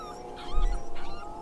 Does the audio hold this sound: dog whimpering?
yes